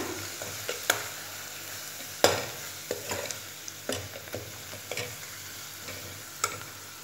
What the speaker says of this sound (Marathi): मेथी तेलामध्ये परतले गेली व्यवस्थित तेल पण सोडले